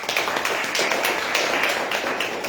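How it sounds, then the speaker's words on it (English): Sustained applause from an audience thanking a panel at the close of a health policy discussion on universal health coverage in South Asia, dense steady clapping filling the room with no speech. "let's give a round of applause to the panel"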